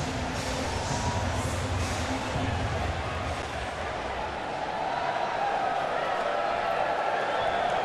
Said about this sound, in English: Big crowd here on hand and having a great time